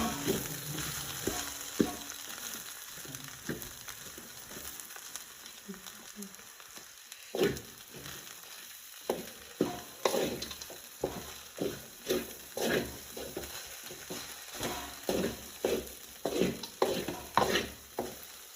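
Rice being stirred and mixed in a pan on a stove, giving a run of soft scraping strokes over a faint sizzle. The strokes start sparse, then fall into a steady, close rhythm in the second half.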